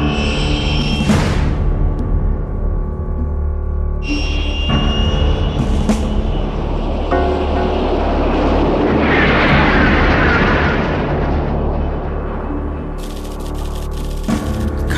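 Aircraft in the video game XIII roars loud and close as it goes supersonic, a sustained broadband rumble with sharp tonal swells and bursts over a continuous engine drone.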